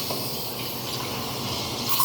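Steamed milk pours steadily into espresso for Santa latte art, a continuous soft liquid stream with a faint hiss, close and unbroken, with no voices.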